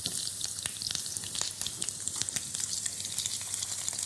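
Potatoes sizzle steadily in a frying pan as they brown for saffron fondant potatoes, with a dense, crackling fry and scattered sharper pops throughout, close and continuous with no talking.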